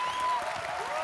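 An audience at a marketing talk claps together in a brief burst of dense, loud applause.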